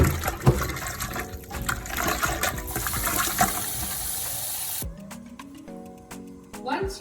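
Cold water runs from a tap into a cooking pot for rinsing pork trotters for tonkotsu ramen, a steady gushing stream that changes pitch as the pot fills, with a brief pause and clatter near the end.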